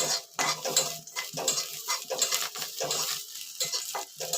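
Dry-roasting chana dal in a pan for puranpoli, with a utensil stirring and scraping against the metal in quick rhythmic strokes, close and clattery with light metallic clinks throughout.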